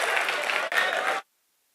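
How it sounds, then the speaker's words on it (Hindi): Loud burst of audience applause at a mushaira poetry gathering at Aligarh Muslim University, dense clapping that briefly dips, then resumes before stopping abruptly. "जोरदार तालियां।"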